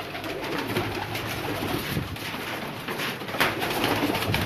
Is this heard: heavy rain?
no